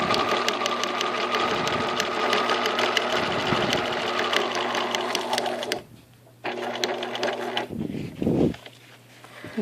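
A Bernina sewing machine stitches a zigzag through fabric in rapid mechanical bursts with a steady hum, close and loud, pausing briefly before stitching again.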